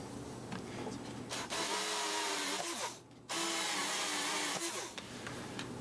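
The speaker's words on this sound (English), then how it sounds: "using my 3/8 spade drill bit, I'm going to make these 2 holes larger." A power drill with a 3/8 spade bit whirs loudly and steadily, enlarging holes, with a brief pause midway before it spins up again, grinding through material.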